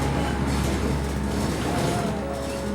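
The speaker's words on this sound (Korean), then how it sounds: "지하철로 1시간 반." Riding a subway train, a steady low mechanical rumble and hum of the moving carriage fills the background, with faint rattling and no voices.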